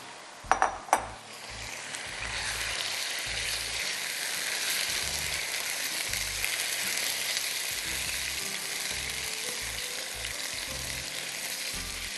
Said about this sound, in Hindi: अच्छी तरह चिकन को सियर करिएगा ताकि उसका कलर चेंज हो जाए